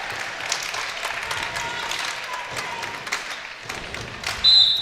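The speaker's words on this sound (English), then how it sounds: "So you can hear the JV boys down in front of us really trying to get the crowd into it." In a high school gym at a boys volleyball match between Spring-Ford and Council Rock South, the crowd claps and cheers in a steady wash, lifted by junior varsity players up front, with a sharp burst near the end.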